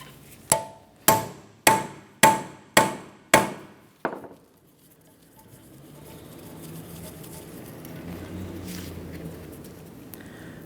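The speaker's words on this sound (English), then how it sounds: "turn this a little bit counterclockwise, and we'll give it a loving bonk with a hammer" Six sharp metallic taps ring out in an even rhythm as a hammer strikes a Phillips bit driver on a brake dust shield screw of a 2003-2007 Honda Accord, followed by a seventh weaker tap and then quiet shop noise.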